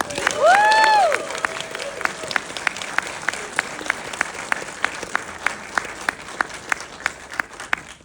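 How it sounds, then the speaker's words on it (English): Audience applause and cheering at a film Q&A screening at an AMC theater in Burbank, a sustained wash of clapping with a loud whoop early on, continuing steadily to the end. "Please give a big round of applause for our Presents Director, Steven Soderbergh"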